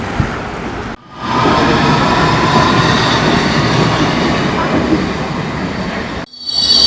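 A London rail line train rumbles past at close range, a loud, continuous roar of wheels and carriages with squealing metallic tones, cut off abruptly near the start and end.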